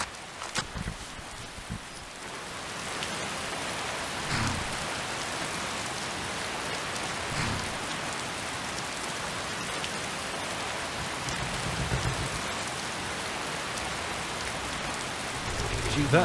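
Steady rain in the video game Skyrim patters continuously on a surface, a dense even hiss with a few soft thuds, no voices.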